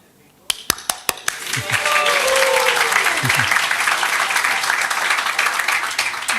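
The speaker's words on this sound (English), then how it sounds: "You should clap." A spiritual gathering audience breaks into loud, sustained applause, starting with a few sharp claps and swelling into steady crowd clapping with some voices mixed in.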